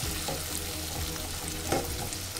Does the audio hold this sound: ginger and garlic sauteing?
yes